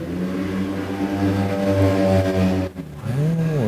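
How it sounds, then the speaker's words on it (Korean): A motorcycle engine droning loudly outside, its steady tone holding, then briefly cutting out and rising again as it revs past near a quiet room. "아유, 오토바이 소리."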